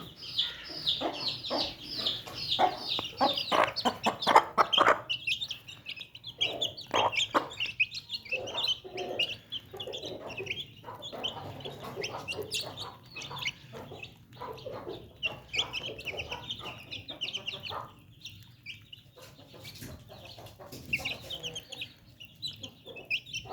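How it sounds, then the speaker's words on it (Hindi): Backyard chickens, including a hen with two chicks, cluck and chirp while eating feed in winter, a close, irregular run of short clucks and squawks over a quiet background. "तो ये मेरी मुर्गी है जिसने 2 चूज़े निकाले थे"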